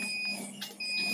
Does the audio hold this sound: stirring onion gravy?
no